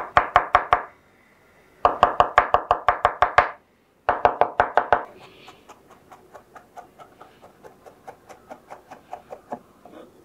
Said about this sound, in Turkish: sarımsakları şöyle ince ince doğradım